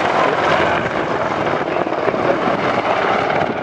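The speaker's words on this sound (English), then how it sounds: "So here she is from the left now, as you say, the WAH-1." A WAH-1 Apache attack helicopter with uprated Rolls-Royce RTM engines passes from the left, a loud, steady broadband rotor and turbine roar that fills the whole stretch without a break.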